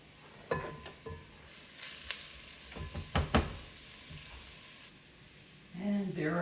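Celery dropped into onion sautéing in a pot for homemade vegetable stock, with scattered clatters and knocks over a quiet sizzle, then a swell of frying toward the end.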